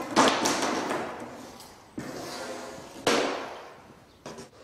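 Hammer driving nails into a carpet smooth edge gripper strip laid along skirting boards, four sharp, close thumps at irregular intervals, each ringing out briefly before the next, with no speech.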